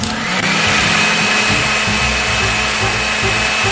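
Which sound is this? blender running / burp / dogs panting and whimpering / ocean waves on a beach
blender running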